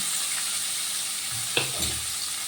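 Chopped garlic and onions frying in a pan, a steady soft sizzle with a couple of brief stirring scrapes near the end, close and moderately quiet.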